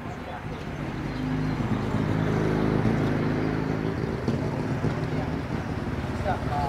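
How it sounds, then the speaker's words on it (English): A motorcycle rumbles past nearby, its engine noise swelling and holding over steady street ambience in Chiang Mai, Thailand, with some wind. "Another motorcycle."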